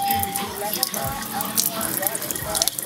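Running water from a Nexus X Blue alkaline water machine, a steady close splashing flow with some bubbling, continuous throughout with faint background talk.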